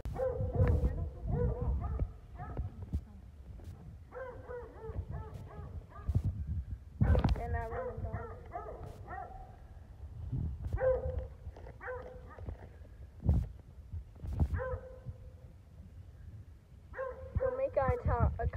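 A dog barks repeatedly in bursts outdoors, sharp barks and some yips and whimpers scattered among loud handling noises and people talking.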